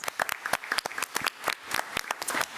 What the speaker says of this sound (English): let's give Mr. G another round of applause